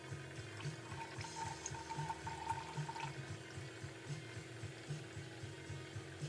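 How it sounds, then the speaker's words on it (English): Liquid poured into an Indian Yellow pigment mixture bubbles and trickles steadily, a soft continuous watery fizz with no voices over it. "It has a bubbling sound."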